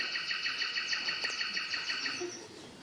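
A nightingale sings in a garden during a school stage play, a rapid series of bright, repeated chirps and trills that stay fairly soft and fade near the end.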